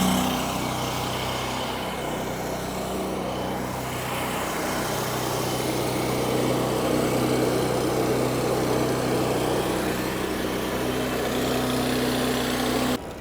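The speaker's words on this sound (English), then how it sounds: "he's gonna get the pony motor started and check out these hydraulic landing gear" Small pony motor running on a heavy-haul hydraulic trailer, a steady droning engine hum with a constant tone, close and continuous, no voices.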